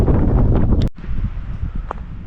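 Wind gusts buffet the microphone on a rainy mountain summit, a heavy rumbling roar that drops off abruptly before resuming as a lower, unsteady blustering.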